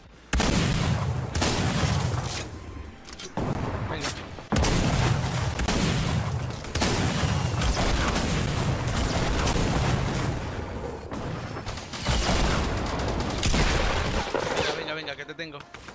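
Grenade launcher blasts in a chaotic Fortnite 50 vs 50 match, a dense string of loud booms and gunfire cracking one after another, heavy and near throughout.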